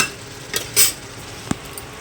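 Last night's few leftover dishes being washed by hand in a home kitchen: a handful of brief clinks and scrapes of pots and utensils, one louder clatter, close and without talk.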